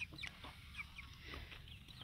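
Muong-breed chicks peep faintly, giving a few thin, brief chirps scattered over a quiet outdoor background with low rumbling noise.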